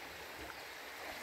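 A river stream where dishes are washed flows steadily, with a continuous broadband rush of water filling the short stretch, no distinct splashes and no speech.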